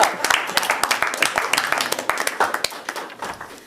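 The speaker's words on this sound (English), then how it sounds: "How about a round of applause for the Christmas committee?" An office crowd claps for the Christmas committee in a short burst of brisk, uneven applause that fades over a few seconds, with voices mixed in.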